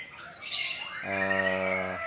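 A murai batu (white-rumped shama) songbird gives a clear, close whistled song, a bright rising note followed by a rich sustained tone, alone over quiet background.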